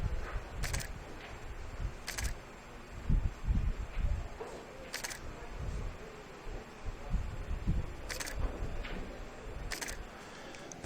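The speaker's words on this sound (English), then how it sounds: "The clicking sound you hear, I'm a photographer, so on occasions I will take photos of the match." A photographer's camera shutter firing at a nine-ball pool match: about six sharp, brief clicks at irregular intervals, moderately close, over a low murmuring room hum.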